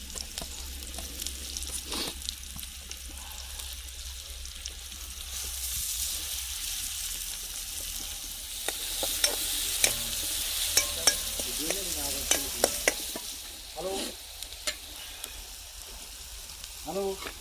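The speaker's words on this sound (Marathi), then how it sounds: "आता कांदा टाकून घेऊ कांदा मस्त आपण भाजून घेऊया" Chopped onion frying in a pan for a village-style goat brain fry masala, with a steady sizzle and spatula scrapes and clinks while being stirred, and a voice speaking briefly over it.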